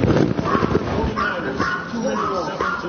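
A pet dog gives several short barks and yips, close and loud, mixed in with people talking indoors.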